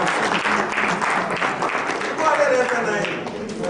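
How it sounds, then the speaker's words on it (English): Audience applause in a plenary session hall, a steady wash of clapping that holds for several seconds with no break. "Please give him a round of applause."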